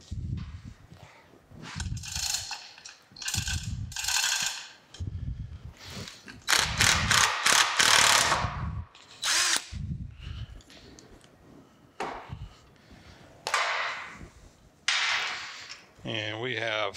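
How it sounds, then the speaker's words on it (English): Screws being worked out of an old Champion Midway No. 71 forge blower: short bursts of close mechanical clicking, scraping and grinding metal, separated by pauses, with a person talking intermittently. "let's see if we can get these screws back out"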